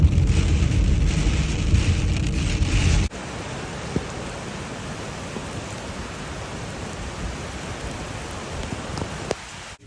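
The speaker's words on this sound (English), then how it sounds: "since it's rainy outside" Rain falls outside as a steady, broadband hiss, loud and rumbling for the first few seconds, then a softer, even patter with occasional faint drips until the end.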